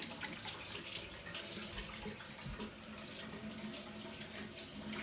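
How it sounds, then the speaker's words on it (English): A kitchen tap runs steadily while hands are washed under it, a continuous close hiss and splash of water lasting throughout with no talking. "In the meantime, I'll wash my hands again."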